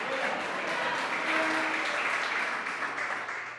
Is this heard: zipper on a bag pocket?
no